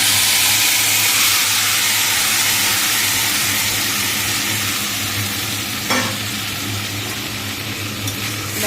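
Spice paste hits hot oil in a pan and sizzles loudly, a dense, steady hiss and crackle close up that gradually eases slightly, with a brief clatter of stirring near the end and no talking.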